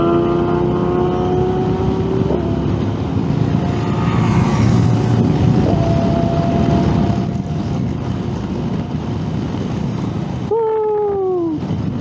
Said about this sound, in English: Did you see that Hayabusa? You can't even see it anymore on the road, it's gone.